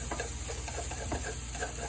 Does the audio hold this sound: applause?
no